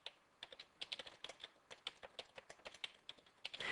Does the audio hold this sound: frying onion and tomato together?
no